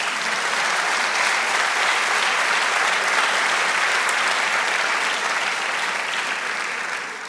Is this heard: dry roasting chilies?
no